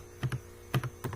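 A computer keyboard is tapped in a few quick keystrokes, three short clusters of clicks close by over a faint electrical hum.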